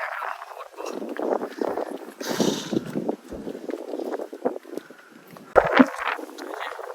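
Strong wind buffets the microphone in continuous gusty rumbles while climbing Sigiriya Lion Rock in Sri Lanka, with a brief louder thump near the end.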